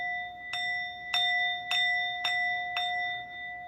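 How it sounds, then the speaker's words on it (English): A bell rings five times at a steady, even pace, each strike a bright metallic tone that rings briefly before the next, fairly quiet and alone. "Let me ring the alarm and sound the bell."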